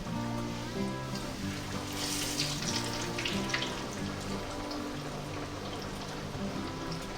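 Chicken pieces for a spicy chicken sandwich sizzling in hot oil in a pan, two at a time, a steady crackling hiss that holds at an even, moderate level throughout.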